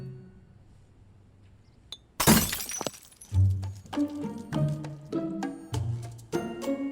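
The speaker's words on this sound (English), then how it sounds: "The extremely petty way that Gabby knocks over this glass" A drinking glass knocked over and shattering in a TV drama scene, a sudden loud crash followed by a run of bright clinks and tinkles of scattered shards, with no voices.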